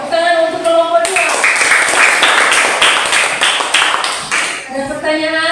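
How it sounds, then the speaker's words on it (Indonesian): Brief speech gives way to a burst of classroom applause for a student group after a presentation, lasting several seconds, which tapers off as talking resumes. "Tepuk tangan untuk kelompok 2"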